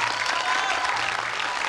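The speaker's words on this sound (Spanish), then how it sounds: "Y así, con el aplauso de todos nosotros," Audience applause at a Spanish fair pageant, a continuous even wash of many hands clapping at moderate volume, steady throughout.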